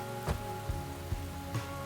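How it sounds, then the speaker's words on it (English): Rain falls in the Enshrouded video game, a soft steady patter on surfaces with a few louder drops landing at irregular moments. "when I'm recording, I can't always hear the Enshrouded rain"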